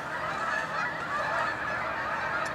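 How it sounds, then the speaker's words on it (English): Geese honk outdoors on a morning near a school, a dense overlapping chorus of calls carried over steady open-air background noise, moderately loud throughout. "My goodness, look at all these geese this morning."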